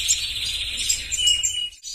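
Goldfinches chirp and twitter rapidly at close range at their nest, a continuous high-pitched chatter over a faint low background hum.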